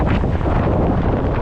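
A strong storm wind blows steadily near a riverside cabin, a loud, continuous rushing roar with slight gusting and no voices.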